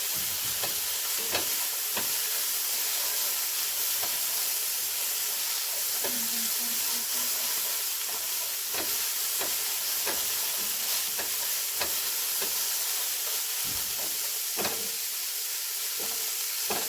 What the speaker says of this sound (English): you're just going to be pretty much browning the onions